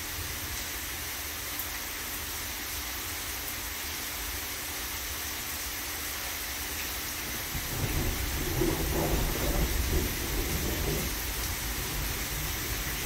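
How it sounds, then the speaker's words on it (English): Thunder and rain during a nighttime lightning storm in Tulsa: constant rain hiss, then a deep rolling rumble of thunder building partway through and lingering. "This lightning, man. It's crazy."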